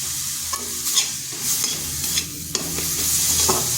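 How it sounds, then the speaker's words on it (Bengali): Turmeric, coriander and cumin powders stirred into cauliflower stems frying in oil, a steady close sizzle with repeated scraping and tapping of a spatula against the pan. "ভালো করে মিশিয়ে নিচ্ছি"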